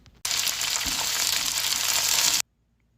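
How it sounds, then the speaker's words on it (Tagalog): String beans (sitaw) sautéing in a pan with garlic for creamy adobong sitaw with tofu, a loud steady sizzle starting abruptly and running about two seconds before cutting off, with no voices. "pwede na nating ilagay ang sitaw. Yan, igisa-gisa lang natin hanggang sa maluto ang sitaw"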